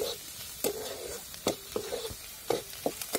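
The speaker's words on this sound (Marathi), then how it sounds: "तर मी आता इकडं कांदा ते परतून घेते" Onion being sautéed in a pan for a home-style dry soybean bhaji, with soft sizzling broken by a few sharp stirring scrapes and clinks spread through the moment, close and fairly quiet.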